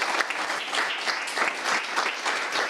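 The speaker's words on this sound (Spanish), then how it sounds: "Un fuerte aplauso para ella, por favor." An audience at a business panel event applauds, dense continuous clapping from a roomful of people, steady and fairly loud throughout.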